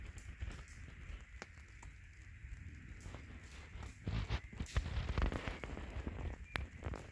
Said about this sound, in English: under the tarp with a light rain